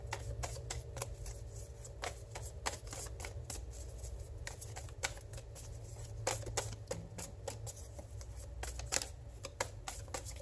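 Tarot cards being shuffled for a reading, with continuous soft riffling and sharp card snaps at an irregular rhythm, close and fairly quiet over a low background hum.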